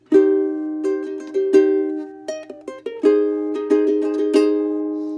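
Ukulele played fingerstyle through a chord progression, with single picked notes in between, bright and close, with no voices.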